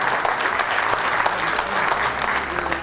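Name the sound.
audience applause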